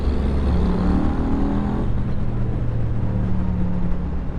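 Steady engine drone of a 2016 Yamaha FZ-07 middleweight motorcycle under way, a low harmonic hum holding near and loud, its pitch dropping slightly midway and then settling, with no talk over it.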